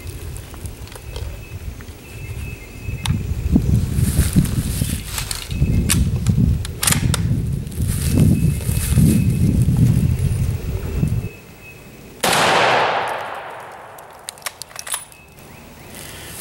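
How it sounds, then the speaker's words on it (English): A 30-06 rifle fires at a steel plate outdoors: after a stretch of gusty wind rumble, one sharp, loud crack rings out and decays with a hissing tail, followed by a few faint ticks. "Actually fired at the plate twice"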